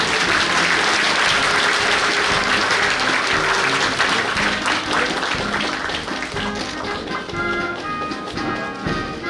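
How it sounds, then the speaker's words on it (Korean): A crowd at a navy basic training graduation ceremony applauds an award recipient with loud, dense clapping that runs steadily, then thins slightly toward the end, with sharper individual claps becoming audible. "수상자에게 축하의 박수를 보내주시기 바랍니다."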